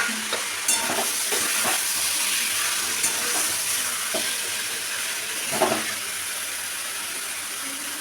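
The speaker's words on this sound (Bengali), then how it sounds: "হালকা ভাজা হয়ে গেলে এরপরে লোটে মাছগুলোও দিয়ে দিচ্ছি" Bombay duck (lote fish) added to lightly fried potatoes with tomato, turmeric and salt in a pan, giving a steady close sizzle with a few stirring scrapes over eight seconds.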